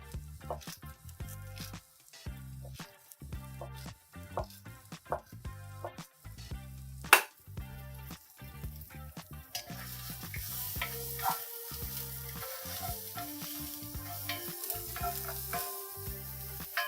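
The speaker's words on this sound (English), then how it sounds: "Getting those onions. They're getting quiet. I gotta go stir those." Onions frying in a pan while being stirred, a quiet crackling sizzle broken by repeated scraping strokes of a utensil, growing busier and louder toward the end.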